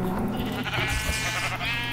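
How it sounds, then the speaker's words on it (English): Sheep bleating in Minecraft, a couple of wavering bleats close up, heard alone over a steady low background. "I'm, like, murdering sheep and stuff"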